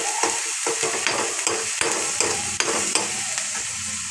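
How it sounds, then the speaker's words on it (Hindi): Paneer mixture frying in a pan with a steady sizzle, while a spoon stirs and scrapes it close up at an irregular rhythm; no talking. "बीच बीच में हल्का हल्का इसको चलाते रहेंगे।"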